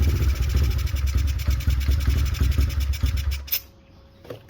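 A small engine runs rough with the choke off, a loud, uneven, sputtering idle that falters and then stalls into near silence, followed by a faint click.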